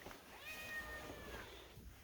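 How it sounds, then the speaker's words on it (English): A house cat meows once in a drawn-out, wavering cry inside a home during a walkthrough, fairly faint against a steady room background, with no talking. "Hi, Kitty."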